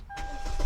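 A car engine cranks and starts up, its sound building steadily from quiet to loud over a brief moment, with a faint steady tone running through.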